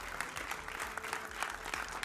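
Studio audience applause welcoming the participants of a televised debate show, a dense, steady wash of clapping from a large crowd heard alone.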